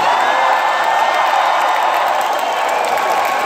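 A large Singapore crowd at a WWE event roars and cheers steadily, a broad, sustained wash of voices with some whoops and applause mixed in.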